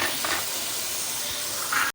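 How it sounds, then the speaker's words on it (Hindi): Soy sauce hits a hot pan while cooking Chicken Manchurian, giving a steady, close sizzling hiss that runs the whole time and swells near the end. "ये देखें, 2 टेबलस्पून सोया सॉस डालेंगे"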